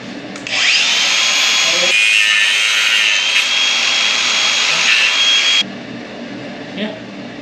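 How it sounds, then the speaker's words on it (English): Power tools whine loudly at close range while work is done on a Dana 60 axle, a high steady drill-like tone that cuts off abruptly near the end, with voices in the background. "Or power tools."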